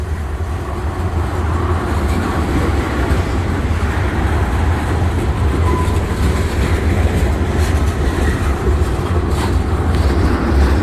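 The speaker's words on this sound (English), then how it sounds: "Yeah, I believe that's another train down there." Rail car rolling through Illinois, a loud continuous rumble and rattle of wheels on track heard from on board, steady throughout with faint clicks and no speech.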